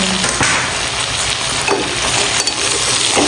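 Onions sizzling loudly in hot oil rendered from local hill goat meat, a dense continuous crackle and hiss with brief stirring scrapes, close and unbroken by speech.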